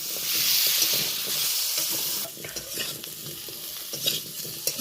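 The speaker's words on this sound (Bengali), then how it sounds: "বেশ লালচে হয়ে গেছে আলুগুলো। এইভাবে আমি ভেজে নিলাম।" Potato pieces fry in a pan with a loud, bright sizzle that eases midway into a quieter crackle. Occasional scrapes and stirring knocks come through close by.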